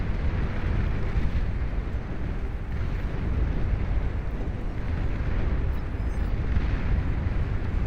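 Catapults fire missiles in a large 8v8 battle in the real-time strategy game Beyond All Reason, producing a dense, continuous roar of rumbling explosions and impacts with no talking.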